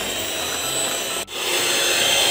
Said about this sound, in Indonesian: Ini kita mixer sampai adonannya lembut, putih dan kaku.